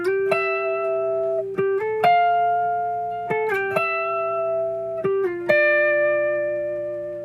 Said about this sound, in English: The pre-chorus has a melodic line based on sixth intervals.